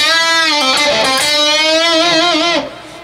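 Electric guitar plays a lick, a sustained melodic line with string bends, releases and vibrato, clear and loud before fading at the end.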